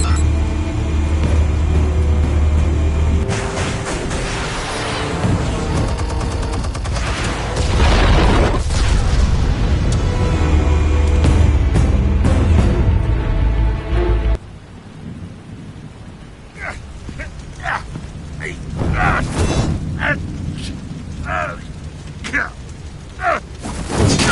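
Heavy booming detonations of explosives in the Batman Telltale game, a sustained thunderous roar and rumble with crackling debris that cuts off abruptly, followed by quieter scattered impacts and a speaking voice.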